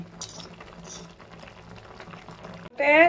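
A covered pot of fish and vegetables simmers with a low, steady bubbling and a few faint clinks, then a louder burst of pouring or rushing liquid near the end.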